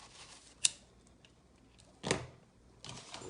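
Scissors snip through cheer bow ribbon in three short, sharp cuts spaced about a second apart, close and quiet in a still room.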